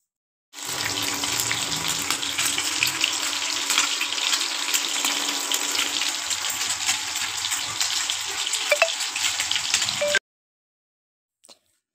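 Onions frying in a pan for chilli chicken give a steady, loud sizzling hiss that runs unbroken for about ten seconds, then cuts off abruptly into silence.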